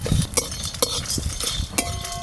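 Whole spices — cumin, fennel, dried red chillies, cinnamon, cardamom and cloves — stirred in a dry wok, giving irregular scraping and light clinking taps close by, with no talk.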